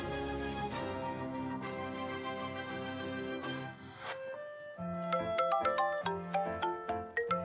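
A phone ringtone plays as a bright melodic electronic tune, loud and close, shifting to a new pattern of repeated chiming notes partway through.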